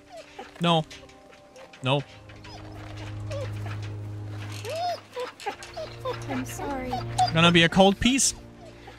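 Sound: dog whimpering in video game The Walking Dead

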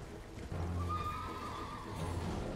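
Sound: horse neighing in the video game Elden Ring

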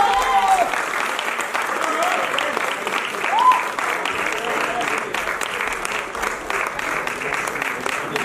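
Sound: applause

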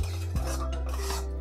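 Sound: stirring roasting vermicelli in a hot kadhai

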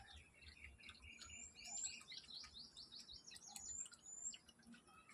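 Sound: yellow sparrows chirping

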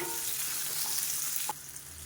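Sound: sautéing onion, garlic, ginger and green chilli in a pan

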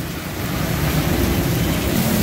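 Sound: heavy rain

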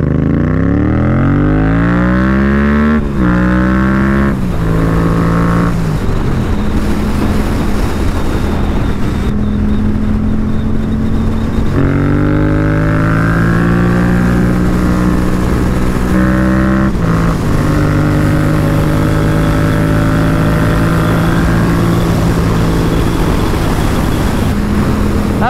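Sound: Yamaha MT07 motorcycle riding on the road

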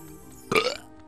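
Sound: burp

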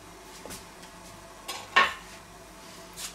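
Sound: whisk stirring in a pot

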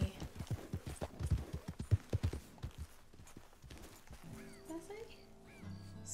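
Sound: horse trotting and neighing in video game Red Dead Redemption 2

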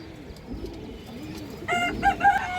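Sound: Khoragola pigeons cooing

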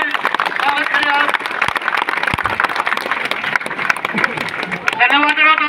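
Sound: applause welcoming a speaker

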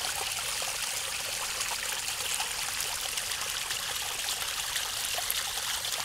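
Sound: sewage water trickling out

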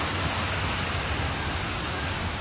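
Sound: water falling from a height

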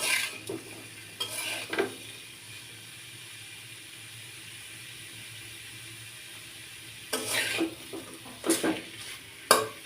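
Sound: stirring bitter gourd and potato frying in a pan

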